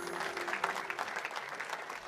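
Polite indoor applause from invited guests at the opening of the European Central Bank headquarters, a steady, even patter of many hands that holds at moderate volume throughout.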